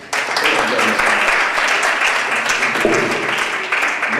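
An audience applauds steadily after a presentation by two doctors, a dense, even wash of many hands clapping that stays loud and continuous throughout.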